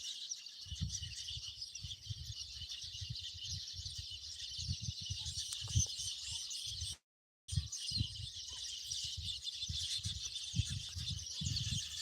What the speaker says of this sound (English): you can hear bird sound from this tree